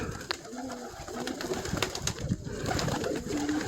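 Several stork pigeons coo softly and repeatedly in an aviary, their low murmuring calls overlapping against a steady background hum.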